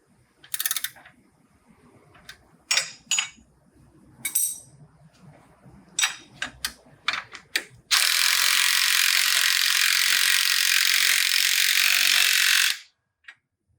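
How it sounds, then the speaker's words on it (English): A wrench clicks and ratchets on a drag link nut on a Polaris RZR Turbo S, making scattered sharp clicks that give way to a steady, loud, sustained ratcheting buzz lasting several seconds before stopping. "So now that we have both drag links installed, we're going to do a final torque."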